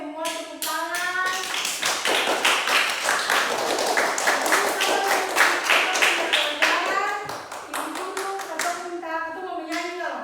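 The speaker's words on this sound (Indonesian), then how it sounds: "Oke, semua tepuk tangan." Children in a classroom clapping their hands together, a loud rapid burst of many overlapping claps lasting several seconds, with kids' voices calling out before and after.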